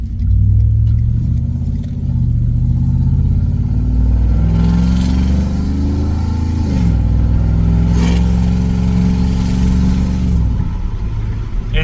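Ford F-150 5.0 V8 pickup fitted with an MBRP exhaust pulling out, a deep loud engine note rising and falling through gear changes, close up with no talk.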